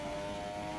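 A Formula 1 car engine held at full throttle in the F1 2017 game, a sustained high-pitched, tonal drone that stays loud and steady for under a second, heard alone.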